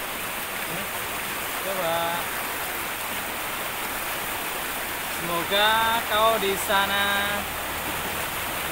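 A river stream flows with a constant broadband rush, while someone speaks in short bursts over the water.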